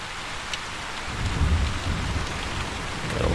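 Steady rain pours across a VRChat world, with a low rumble of thunder swelling in the middle and again toward the end, fairly close and continuous, no voices.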